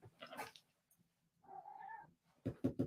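A pet cat in a quiet room gives one clear, drawn-out meow at moderate volume. A voice talks briefly before and after it.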